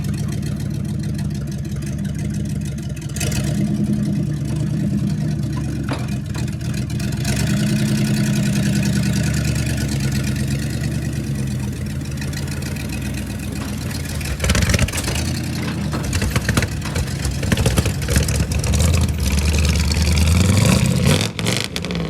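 A 1975 tow truck engine runs steadily at a fast choke idle, a continuous low rumble close by that rises and surges toward the end, with no talking.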